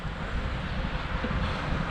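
Wind rushes and buffets against the microphone during a long-distance bicycle ride, a steady close broadband roar with no one speaking.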